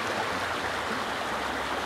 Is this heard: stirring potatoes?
no